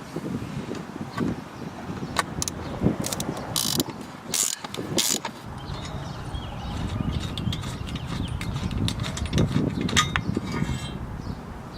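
Quick, repeated ratchet clicking while car seat bracket bolts are unbolted, coming in irregular bursts of close mechanical ticks and scrapes over faint background noise.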